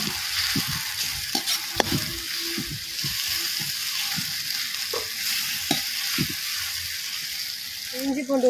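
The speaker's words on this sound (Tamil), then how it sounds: "இஞ்சி பூண்டு பேஸ்ட்டு வதங்கி கணக்கு." Ginger garlic paste sautés in hot oil for a village-style country chicken curry. A constant sizzle runs under repeated scraping stirs and taps of a spoon against the pan.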